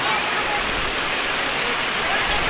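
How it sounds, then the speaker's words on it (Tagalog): A steady, dense roar of heavy rain pours down on a cemetery in the Philippines without pause, a broad hiss filling the whole stretch at a loud, even level. "Grabe yung buhos ng ulan."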